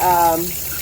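Tap water runs while orchids are flushed, a steady splash and gush that fades and thins after a brief moment.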